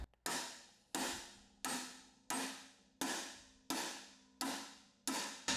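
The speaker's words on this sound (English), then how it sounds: "we're going to tap on either end and bend this down 90 degrees" A hammer tapping either end of a clamped metal bar to bend it 90 degrees while building a forge: eight evenly spaced, ringing metallic strikes, close and clear, each decaying before the next.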